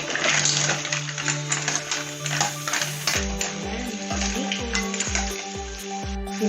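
Garlic, onion, ginger and tomato sautéing in a pan, with a spatula clinking and scraping against the metal in a steady rhythm over a low sizzle and faint background hum.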